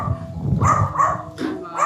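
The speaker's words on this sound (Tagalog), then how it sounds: "Maingay kasi ng mga aso." Several dogs barking in short bursts close by, with some yips mixed in, a loud and uneven volley lasting a couple of seconds.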